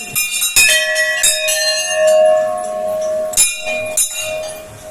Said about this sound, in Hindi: ये माता का मंदिर, ये घंटियां लगी हैं।